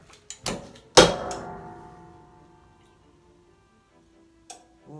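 A loud mechanical chunk from an industrial heat press running at 165 degrees, with a sharp impact near the start, a short ringing decay, then quiet and a small later click; no voices.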